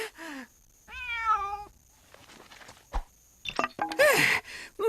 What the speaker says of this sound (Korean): 망할 놈의 밤고양이 새끼, 감 떨어질 뻔했구나